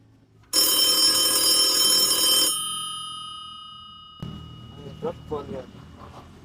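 An old-style telephone bell rings loudly and continuously for about two seconds during an outgoing call, then fades, followed by a voice talking over a faint hum.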